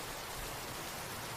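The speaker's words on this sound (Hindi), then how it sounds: "बरसात की बूंदें छप छप करके हवेली की छत पर गिर रही थीं" Steady rain patters onto the roof of an old haveli, a dense, even hiss with no pauses and no voices, close and moderately loud for the whole moment.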